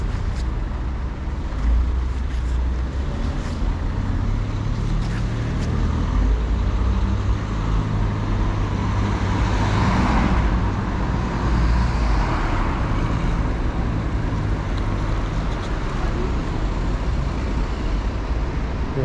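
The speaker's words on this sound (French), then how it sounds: "il y a un vrai embouteillage en fait" Steady rumble of a Paris traffic jam, idling and crawling engines forming a continuous dense roadway hum with no breaks, heard from close by.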